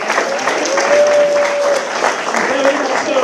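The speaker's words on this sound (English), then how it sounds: "Let's give him a big round of applause." Screening audience in San Francisco applauding the concert audio mixer, a loud, close crowd clapping steadily with cheers and a sustained whistle rising over it.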